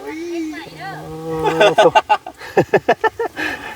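Cattle lowing out in the open at a small rice-field hut, a long droning moo that rises and falls, followed by a string of short rhythmic vocal bursts, close and fairly loud.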